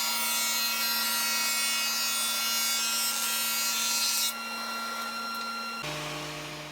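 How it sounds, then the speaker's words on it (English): Rough lumber board fed through a jointer, a steady high whining cutter hum with a brief shift in pitch as the pass ends and the machine keeps spinning, no talk. "I'm going to pass it through a couple more times, take about 1/16 of an inch or less off just to flatten it out"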